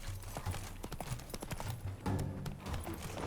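A horse gallops in The Witcher 3 video game with rapid, steady hoofbeats close by, layered over game ambience and music.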